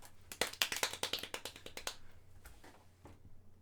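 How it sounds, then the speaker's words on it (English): A slow, sparse golf clap: roughly a dozen light, close handclaps in a quick steady series that thins out and stops, followed by faint murmuring talk, all fairly quiet. "Golf clap."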